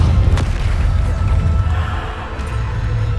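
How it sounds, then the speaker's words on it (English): A Bombardo explosion spell cast in the video game Hogwarts Legacy, booming as a loud, sustained low rumble that fills the whole moment without pause. "Bombardo!"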